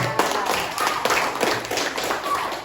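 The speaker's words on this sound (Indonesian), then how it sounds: "Beri tepuk tangan kepada mereka" A class group of students claps hands in a classroom, a brief patter of scattered claps of moderate loudness, with some voices mixed in underneath.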